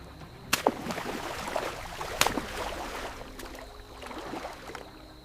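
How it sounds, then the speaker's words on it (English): A beaver's tail slaps the water in the Arctic wilderness, giving two sharp, flat smacks a couple of seconds apart against a faint, quiet watery background. "A beaver tail strikes the water."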